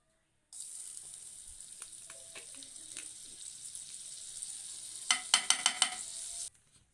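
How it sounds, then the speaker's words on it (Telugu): Butter sizzles in a pan on the stove for red sauce pasta, a thin steady hiss with light scraping and a short run of crisp clicking pops near the end before it cuts off. "ఇప్పుడు స్టవ్ మీద ఒక ప్యాన్ తీసుకొని కొంచెం బటర్ అనేది యాడ్ చేయండి."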